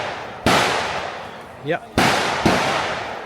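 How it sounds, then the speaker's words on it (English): Handguns fire at a firing range near the Cu Chi Tunnels. Three loud, sharp shots ring out with echoing tails, and a brief voice is heard between them. "No, it's a firing range actually. Very loud."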